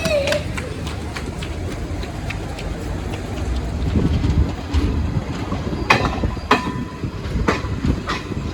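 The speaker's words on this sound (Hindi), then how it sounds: "2 मिनट होल्ड के बाद डिपार्चर हो चुका अपनी निर्मली रेलवे स्टेशन से।" A Garib Rath express train pulls out of Nirmali railway station with a steady rumble and clatter of the coaches, with sharp wheel clicks over rail joints toward the end.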